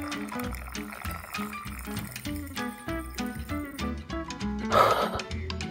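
Spiced rum pours into a glass pitcher, a gurgling liquid stream in short bubbling bursts, heard close and alone with no talking.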